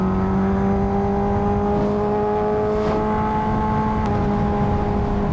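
Kawasaki H2R motorcycle with a carbon tank and front rotor removed, its engine droning steadily at a constant pitch throughout, near and loud, with a faint brief click partway through; no talking.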